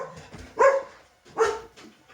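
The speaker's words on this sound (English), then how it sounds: "excuse the dog, something's just been posted through" A dog barks indoors at something just pushed through the letterbox, giving two separate, fairly close barks with a short pause between them.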